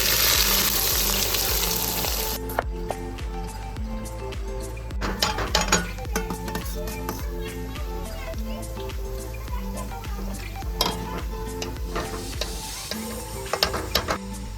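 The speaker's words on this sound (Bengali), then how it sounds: "কড়াই গরম হয়ে গেছে, তেল দিয়ে দিচ্ছি। কেটে রাখা পেঁয়াজগুলো দিয়ে নিচ্ছি।" Chopped onions hitting hot oil in a wok for mutton biryani, a steady loud frying sizzle with scattered metallic clinks and stirring scrapes, continuing over a low background tone.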